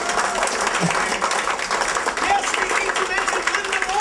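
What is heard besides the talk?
audience applause for Linda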